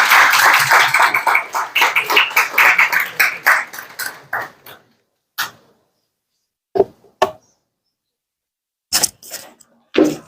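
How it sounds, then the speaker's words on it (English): An audience at a Gavel Club graduation ceremony gives a round of applause: a few seconds of dense, moderately close clapping that thins and fades, followed by scattered single claps and quiet gaps. "Please give him a warm round of applause."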